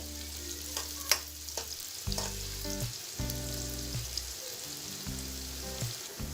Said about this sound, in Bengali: এখন এই সব কিছু আমি নেড়ে নিচ্ছি হালকা ভেজে নিচ্ছি